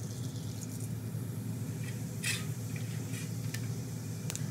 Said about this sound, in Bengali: তেলের উপরে প্রথমে কালো জিরে দেবো